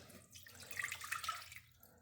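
Water poured from a measuring cup while making homemade BBQ sauce, a steady close splashing stream that swells in the middle and tapers off over about two seconds, with no talking.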